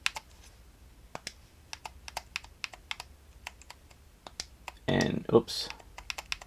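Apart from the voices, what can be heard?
typing a search on a keyboard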